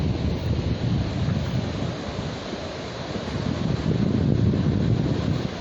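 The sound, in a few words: west wind blowing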